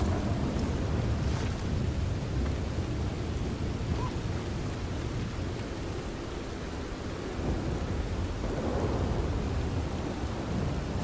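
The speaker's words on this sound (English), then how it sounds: "I know it's tough with all the rain and everything." Steady heavy rain hisses without a break in the video game Red Dead Redemption 2, with deep rolling thunder rumbling underneath throughout.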